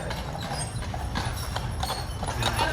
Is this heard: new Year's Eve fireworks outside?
no